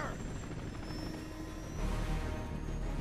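A loud helicopter in a movie drones steadily throughout, its rotor and engine noise filling the scene with a dense, continuous roar.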